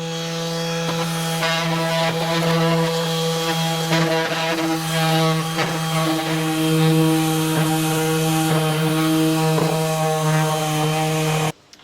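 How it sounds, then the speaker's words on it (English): A new Harbor Freight power sander sanding wood drones loudly and continuously with a steady buzzing hum and gritty scraping, running for about eleven seconds before cutting off abruptly. "We'll start sanding. Brand new Hobo Freight."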